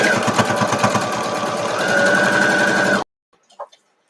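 Sewing machine stitching a quilt block for an Odd Fellow's Chain pattern, a loud close rapid mechanical chatter for about three seconds that stops abruptly, followed by near silence with a couple of faint clicks.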